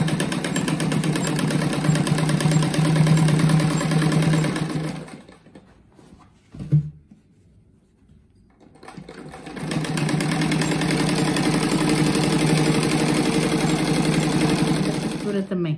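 A sewing machine stitching a patchwork rug, a loud steady mechanical whir up close that stops briefly with a single clack during the backstitch, then runs on evenly again.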